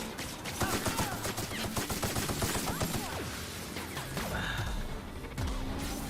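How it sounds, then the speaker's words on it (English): A video game enemy spitting poisonous bullets produces a dense, continuous barrage of rapid, crackling shots and impacts that stays steady and moderately loud throughout, layered with chaotic game effects. "This thing is spitting out poisonous bullets."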